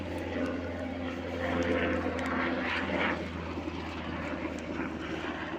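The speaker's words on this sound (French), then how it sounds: "il y a des avions militaires un peu partout" A military propeller aircraft circles overhead, its steady engine drone loud and continuous, swelling slightly as it passes with no speech.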